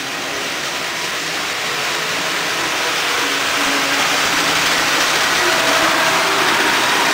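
Three Penn Central diesel locomotives pulling a heavy train, a steady broad rumble of engines and rolling stock that builds slightly louder over the whole stretch, with no talk.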